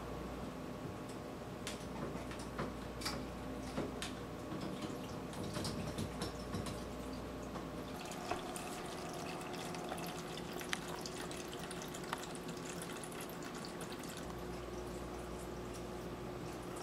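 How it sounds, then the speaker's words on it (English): Homemade wine runs through a siphon hose from a carboy into a bucket, a quiet continuous trickle and gurgle of liquid lasting throughout with no speech. "That way I can pull all the wine out of the carboy into here"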